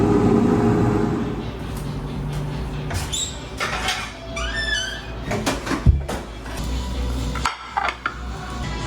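Close handling noises come from an air fryer as a glazed ham steak goes into the basket. Clattering and scraping are followed by a firm thud from the drawer closing, with no talking.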